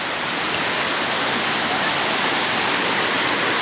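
The Shepot waterfall rushes steadily, a loud, even wash of falling water with no pauses and no voices.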